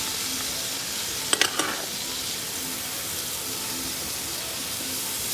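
Minced garlic and onion frying in sesame oil for shrimp fried rice give off a steady, close sizzling hiss, with a brief cluster of scraping stirs near the middle.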